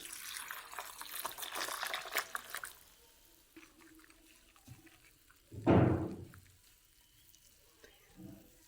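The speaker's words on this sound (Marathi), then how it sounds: "सोयाबीन घेतलेलं आहे, त्याच्यामध्ये पाणी टाकून घ्यायचं." Water splashes into a bowl of dry soybean chunks, a brief hiss of sink-like running water up front, then a short, louder pour and splash midway, alone with no talk.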